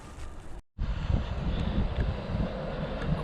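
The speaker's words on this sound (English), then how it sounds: "Oh, it's getting windy now." Gusting wind buffets the microphone outdoors, a steady loud low rumble with a brief dropout near the start, then continuing strong and unbroken.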